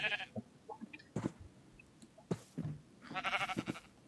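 Goats in the Minecraft video game bleating several times in short wavering calls, scattered across the moment with quiet gaps, alone without talk.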